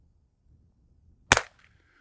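A single sharp crack from a CZ rimfire firearm firing Eley Club Xtra ammunition at an outdoor range target 15 yards away, close and loud after near silence, with a short ringing tail.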